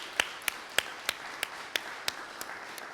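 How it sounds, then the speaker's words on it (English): Scattered handclaps from a small audience at an industry panel symposium: about nine distinct, fairly faint claps spaced irregularly over a few seconds, with no voices. "Can we get a round of applause for our panelists,"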